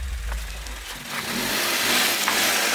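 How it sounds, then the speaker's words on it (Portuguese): A car revs and rolls forward toward a GoPro lying on the ground, its engine note climbing and growing louder and closer over a few seconds against faint outdoor background. "Você vai passar com o carro em cima da GoPro"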